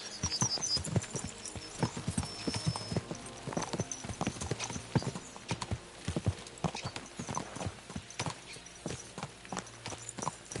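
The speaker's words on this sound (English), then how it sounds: "Let's really spur these horses on, eh?" Rapid hoofbeats of galloping horses in a video game pound steadily and close, with a brief neigh near the start over a faint ambient bed.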